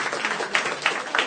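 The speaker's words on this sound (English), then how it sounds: "The audience applauds it." An audience at a live Harmontown Dungeons & Dragons show claps and applauds, a dense, fairly soft patter of hands with small swells, heard alone.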